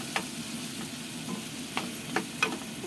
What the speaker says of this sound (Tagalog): Gisa-gisa tayo ng bawang. Ayan. Nilagyan ko na rin ng kamatis.